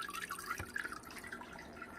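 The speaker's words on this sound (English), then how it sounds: "it literally looks like there's water running over a ball of some sort" Water from a Hygger two-in-one aquarium filter runs over its water-ball attachment, a quiet, close trickle and babble with small drips and splashes that continues without a break.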